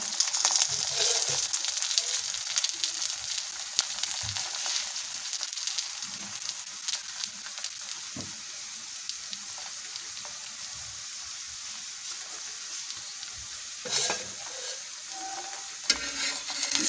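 Aloo paratha frying on a pan gives a steady, close, soft sizzle throughout, with a few light clicks and scrapes along the way and no talking.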